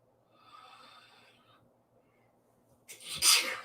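Faint breathy noise, then a single sudden sneeze, sharp and close, breaking a quiet moment.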